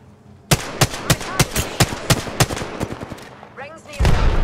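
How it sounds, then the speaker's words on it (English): Rapid bursts of close gunfire in Apex Legends, about eight sharp evenly spaced shots, followed by a short fluttering sweep and a heavier dense blast at the end, with faint voice underneath. "They're shooting at me!"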